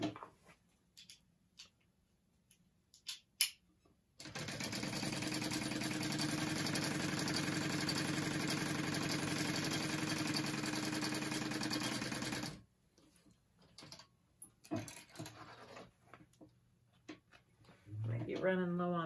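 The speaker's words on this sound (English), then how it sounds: "But first I'm gonna top stitch it." Sewing machine top stitching a backpack pocket, running as one steady, loud continuous whir for about eight seconds, with quiet handling sounds and brief talk before and after.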